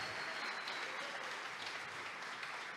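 A church congregation claps for visiting members, a faint, steady patter of many hands heard from a distance, with no clear talk over it.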